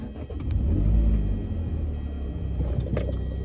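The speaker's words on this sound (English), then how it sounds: "I'm gonna like turn the car on and just like test it out." A car engine turns over and revs, a strong low rumble that swells in the first second and then holds a steady idle with a couple of brief throttle blips, close by with no talking.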